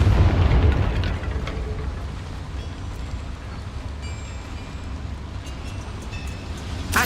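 The Confringo fire-blast spell in Hogwarts Legacy opens with a loud, deep explosive boom. The rumble then fades into a sustained low roar, with faint crackles and short high tones scattered through it. No voices are heard.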